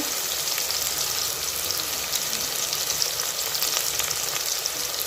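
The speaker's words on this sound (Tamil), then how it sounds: "இப்போ வெங்காயத்தை எல்லாத்தையும் சேர்த்தாச்சு சேர்த்து இப்போ நல்லா வதக்கிக்கிறலாம்" Chopped onions sautéing in a pan for chicken podi kuzhambu, giving a dense, even hiss of frying that holds loud and steady throughout, with no talking.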